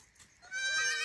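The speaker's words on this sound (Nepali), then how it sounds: "हेर्नु त बाख्रा मेने मेने मेने मेने" A goat gives a single short bleat, fairly close and faint, rising out of near quiet.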